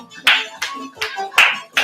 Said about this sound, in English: Remember, you can start doing with the clapping.